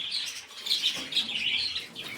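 Adult aviary birds chirping and tweeting steadily in high, overlapping calls, close by, with no talk.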